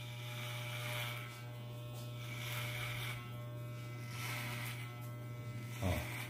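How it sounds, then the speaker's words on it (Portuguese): An electric hair clipper fitted with a number 2 guard buzzes steadily up close, a constant motor hum that briefly shifts as it moves through hair near the end. "vou pegar minha máquina aqui, pente 2"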